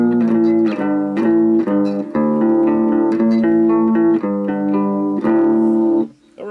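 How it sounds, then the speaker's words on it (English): Broken Peavey Backstage guitar amp producing a buzzy, farting distorted tone as a guitar riff is played through it continuously, loud and close, with a brief dip near the end. "that sounds like this is farting all day long"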